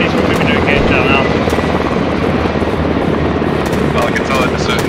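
A helicopter in a military video game drones loudly and continuously with a steady rotor thrum, while radio-style voices talk over it.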